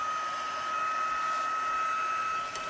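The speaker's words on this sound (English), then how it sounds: "We're going to be using the heat tool, and it's going to take a few moments here." Heat tool drying a craft project blows a steady, even whine with a sustained high tone over airy rushing noise, close and unbroken, no voices.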